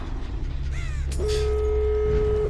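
In Dead by Daylight, a crow gives a single loud, harsh caw as it takes flight, heard close over a low ambient game drone, followed by a steady tone.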